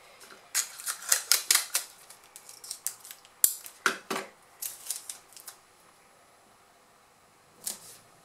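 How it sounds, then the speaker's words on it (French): Adhesive tape is pulled and pressed along joined paper sheets during a sewing pattern project, giving a series of sharp crackling rips and taps in quick bursts, then a pause and one last faint strip. "je mets du scotch tout le long pour bien les joindre ensemble"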